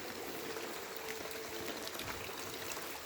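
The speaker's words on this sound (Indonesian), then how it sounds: "Ini airnya nih." Clear mountain water flows along a new village road near Tegal, a steady soft rushing and trickling that runs continuously, fairly quiet and without speech.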